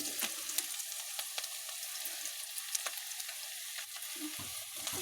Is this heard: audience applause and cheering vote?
no